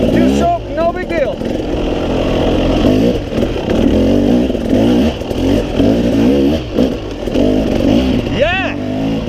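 A KTM 300 XC-W two-stroke dirt bike rides a trail, its engine revving and bogging loud and close in uneven surges, with clattering over rough ground and a brief rising rev near the end.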